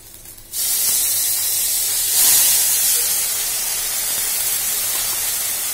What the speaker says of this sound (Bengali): এরপর আমি পেঁয়াজ বাটাটা দিয়ে দেবো।